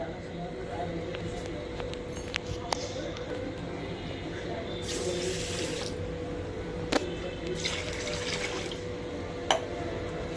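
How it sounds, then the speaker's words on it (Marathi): Two cups of basmati rice being rinsed in water for chicken biryani, a steady running-tap wash with sloshing and a few sharp clinks of grains and vessel, close and moderately loud throughout. "आता याला आपण 2-3 पाण्याने स्वच्छ धुवून घेऊया।"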